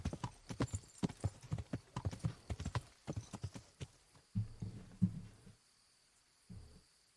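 Rhythmic clip-clop of horse hooves in the video game Kingdom Come: Deliverance, steady and fairly close, running in a quick even beat before slowing to a few scattered steps.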